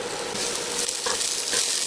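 Onion sizzles in a hot pan while pancit bato is cooked with shrimp, a steady crackling fry with a few stirring scrapes, close and continuous with no talk.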